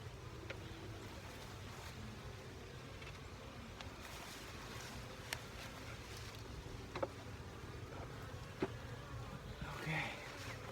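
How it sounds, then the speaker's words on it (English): Honey bees buzzing around an opened hive during an inspection with the top box pulled off, a steady low outdoor drone with occasional brief clicks and handling noises, no talking. "So it looks like our bees are very, very busy."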